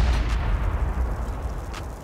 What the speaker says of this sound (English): I hear the turrets